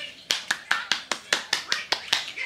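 One person claps hands about a dozen times in a quick, fairly even rhythm, crisp and close.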